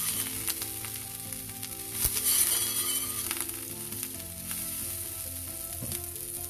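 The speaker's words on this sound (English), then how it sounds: "Now we'll heat a pan. We are not going to keep it on high, we are going to keep it on medium, and then we'll apply little butter over it" Butter heating in a pan over medium heat for a Mumbai street-style pudla sandwich crackles with a steady close sizzle, swelling briefly at one point, with faint occasional taps and no voices.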